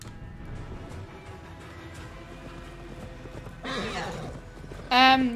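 The horse in Assassin's Creed Valhalla, soft hoofbeats under quiet game ambience and a voice, then a brief snort and a loud, clear whinny near the end.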